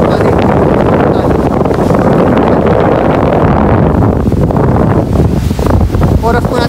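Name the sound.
strong wind at beach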